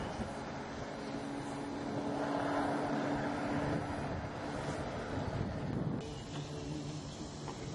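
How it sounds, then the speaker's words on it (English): Steady wind gusts roar across the mic over open lake water while kayaking through a channel in Florida's Tsala Apopka Chain of Lakes, a broad continuous rush with a brief drop near the end, no voices. "Wind's picking up a little bit now"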